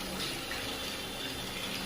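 Water pours and splashes in a steady, faint stream over a shih tzu dog during a bath at home, a soft continuous running-water wash lasting about two seconds with no voices.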